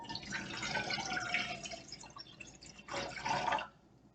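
Tap water running into a saucepan to fill it for boiling macaroni, a steady splashing pour that swells, dips, then surges again before cutting off.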